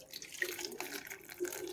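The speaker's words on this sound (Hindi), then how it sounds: "पानी गर्म हो गया है, अब इनके ऊपर हम पानी को डालेंगे।" Warm water pours from a vessel over fresh strawberries being cleaned, a soft continuous splash and trickle, quiet and close, with no voices.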